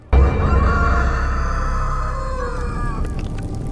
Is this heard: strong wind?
no